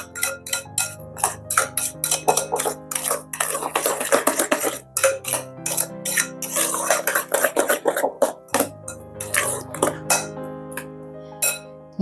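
Banana loaf batter is stirred in a bowl, a utensil clinking and scraping against it in a quick, irregular rhythm of bright taps and rattles, close and alone.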